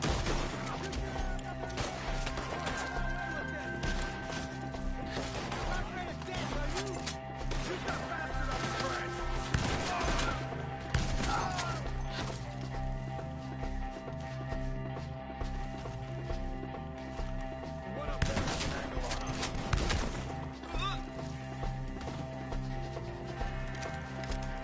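Gunfire cracks out sporadically during a Red Dead shootout among trees, shots and crashes breaking through a steady bed of music and horse hoofbeats, with occasional faint voices.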